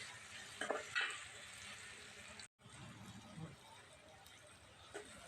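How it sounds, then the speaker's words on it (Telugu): Tomato pieces frying with onions in a pan for mutton curry, a soft crackling sizzle with stirring scrapes, quiet and close, with a brief cut partway through. "ఇప్పుడు టమాటా ముక్కలు అయితే వేసేసుకోవాలి ఇది కూడా ఒక నిమిషం పాటు ఇలాగైతే చేయాలి"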